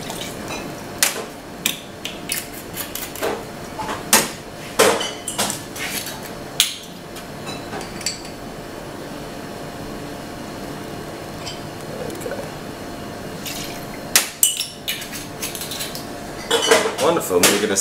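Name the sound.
stirring Tuxedo cocktail with gin and ice in mixing glass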